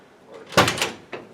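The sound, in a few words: classic Ford Mustang car door closing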